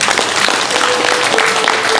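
A church congregation claps together, a dense steady wash of applause running without break at moderate loudness.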